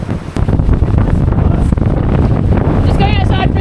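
A sailboat under both sails with engines off, making about 7 knots in 13 knots of wind: steady loud wind buffeting the microphone over rushing water against the hull, with a brief faint tonal chirp near the end.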